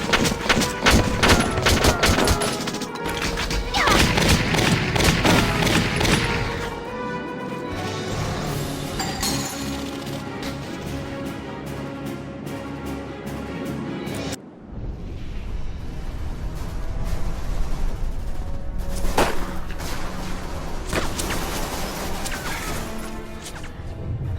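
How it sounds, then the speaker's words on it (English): Tank gunfire in the Valkyria Chronicles war game, heavy crashing blasts and rattling fire in a dense battle mix, loud and continuous with a brief drop midway before the barrage resumes. "Sounds like a tank."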